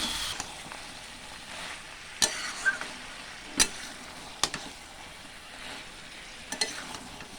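Spices frying in a pan for prawn pickle, with a low steady sizzle and a few sharp clinks of a spoon stirring against the pan, close and fairly quiet.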